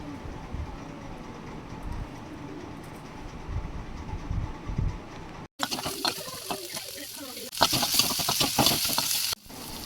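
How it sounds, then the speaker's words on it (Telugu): Carrots and tomatoes fry in a pan for a raw-banana kurma, a steady sizzle under repeated spatula scrapes and stirs, close by, growing louder and brighter partway through. "ఇప్పుడు టమాటా కూడా వేసుకొని వేయించుకోవాలి"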